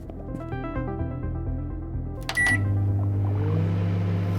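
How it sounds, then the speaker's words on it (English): A microwave oven on its defrost cycle hums steadily with a low tone after a short run of electronic beeps, loud and close, with faint background sounds before it starts. "Why does it sound like a microwave?"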